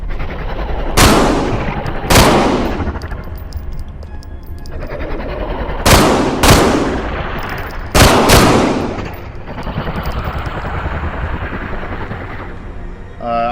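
A bigger gun firing in the Pyramis beta game: about six loud, sharp blasts in uneven bursts, some in quick pairs, each trailing off in a rumbling echo over a dark, steady background.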